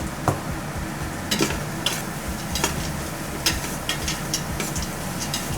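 Onions fry with a pinch of salt in a pan for chicken biryani, a steady close sizzle broken by intermittent scraping clicks from stirring, with no voices.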